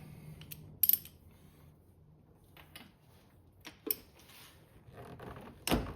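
A socket wrench works on a Honda Accord engine, giving faint, sparse clicks and metallic ratchet ticks separated by quiet gaps, with a sharper knock at the end.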